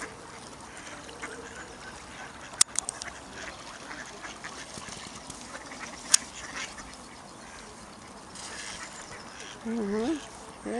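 Ducks and ducklings quack from the water on a mild February afternoon in Czechia, giving scattered nasal calls and a few sharp clicks, while someone talks quietly over the scene.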